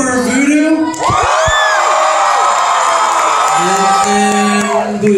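A crowd at a live comedy show in Portland cheers, whoops and yells loudly for about five seconds, a dense sustained roar of many voices with shrill shouts on top.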